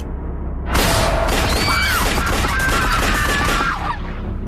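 A rapid barrage of gunshots erupts after a moment of quiet, dense overlapping cracks and booms lasting about three seconds, loud and harsh, with short whistling tones threaded through the burst.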